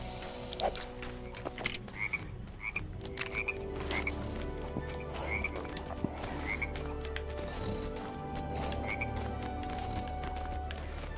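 Repeated short croaks from a frog in a Lego Worlds game, recurring at a regular pace over a constant ambient game hum, moderately quiet and without speech.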